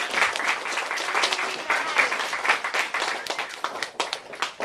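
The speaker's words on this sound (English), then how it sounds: "can you please join me in giving Chad Eros a round of applause?" Sustained applause from an audience for a BC Conservative Party candidate at a presentation, steady dense clapping throughout with no pauses, fairly close and even in loudness.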